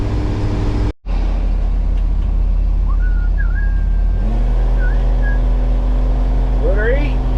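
Roll-off dumpster truck engine droning loudly while driving, a heavy steady cabin hum with a brief cut and a shift to higher revs partway, with someone talking over it.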